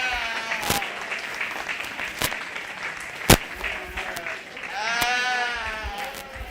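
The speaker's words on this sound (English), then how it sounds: "Let's give these guys a round of applause," Crowd applause at a 4-H/FFA sheep and little lambs show, moderate clapping with sheep bleating clearly over it, a sharp knock partway through and a loud bleat near the end.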